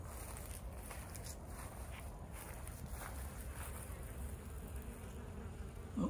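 A honey bee colony hums steadily on a chilly day, a continuous insect buzz close by with faint outdoor background and no talking.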